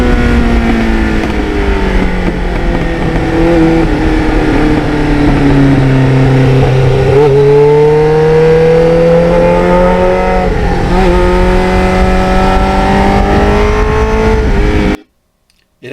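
A 1989 Kawasaki Ninja GPX750R motorcycle engine drones loudly on the road, dipping and then accelerating with a rising pitch over wind rush before cutting off abruptly.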